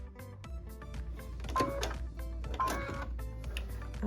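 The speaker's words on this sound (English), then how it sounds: "So I'm going to stitch right on that sew line right there." A domestic sewing machine runs steadily, stitching along a marked sew line on a quilted tablet sleeve, with a continuous mechanical whir and fast rhythmic ticking at moderate level and no talking.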